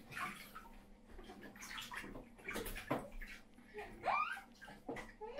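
Irregular splashes and sloshing water as a child splashes in a bathtub, close by, with soft breathing and small vocal sounds between bursts.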